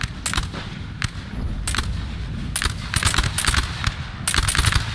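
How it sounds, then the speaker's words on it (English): Musket volleys and artillery fire boom across a Battle of Friedland engagement in Napoleon Total War 3, as loud, sharp bursts crackle in irregular clusters, some overlapping into rolling fusillades. "So the British begin to open fire."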